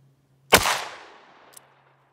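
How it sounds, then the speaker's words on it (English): A single sharp, loud report from a Buffalo Bore 38 Special +P revolver firing a 125 grain load outdoors, with a decaying tail and a faint click shortly after. "I'm just gonna fire off five shots quick like."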